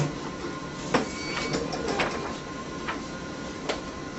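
A BQ-160 PUR perfect binder runs steadily, its creaser and first grinding station producing a continuous mechanical whir with several sharp clacks and thumps spaced across the run.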